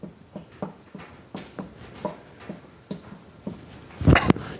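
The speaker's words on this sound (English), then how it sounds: "Let me write this in larger letters." Chalk or marker strokes on a lecture board, forming larger letters: a series of short scratchy taps at an irregular rhythm, fairly close, with a louder rub and knock near the end and no talking.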